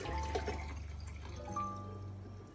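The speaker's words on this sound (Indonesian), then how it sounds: "kita tuangkan dulu ya airnya ke dalam" Water pours into a container for a short, close trickle that fills and settles within a couple of seconds, fairly quiet and with no talking.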